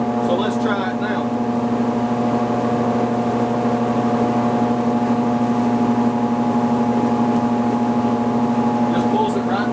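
A shopmade cyclone dust collector runs at speed with a steady, loud motor hum and airy whoosh, unchanging throughout, with faint brief sounds near the start and end.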